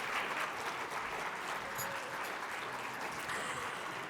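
An audience at an English language teaching talk gives the speaker a big round of applause, a steady, fairly soft wash of many hands clapping, continuous throughout and heard from a distance.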